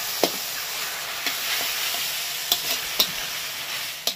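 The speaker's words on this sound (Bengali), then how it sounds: "এবার এটাকে একসাথে কষিয়ে নেব।" Rohu fish with taro stems and chilli powder sautéing in a pan, a continuous close frying sizzle punctuated by several sharp spatula scrapes and taps at irregular intervals.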